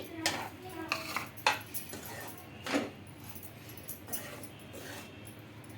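Ragi flour and semolina being stirred and roasted in a pan, with a run of scraping, clinking strokes of a utensil against the metal, close by and fairly quiet, and no talk.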